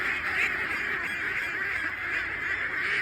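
Flock of ducks honking and squabbling loudly and continuously while crowding to eat mung beans mixed with rice bran, a dense close chorus of calls with no talk.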